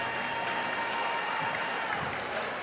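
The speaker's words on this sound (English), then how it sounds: "Let's give these 2 Alliances a big round of applause." An audience at a district robotics competition applauds the two alliances before the first finals match, a continuous, fairly distant roar of many hands clapping in a large venue.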